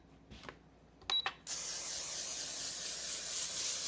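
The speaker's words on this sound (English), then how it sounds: "I'm going to spray the pan real well." Cooking spray hisses onto a pan being greased for pancakes in a home kitchen, a steady loud spray lasting several seconds after a few light clicks and taps.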